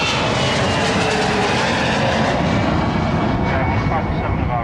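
A biplane flying at an air display near a training base, a steady loud engine drone filling the whole moment with broad wind and rumble, with a voice faintly underneath.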